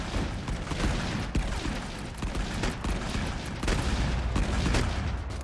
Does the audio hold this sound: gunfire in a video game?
yes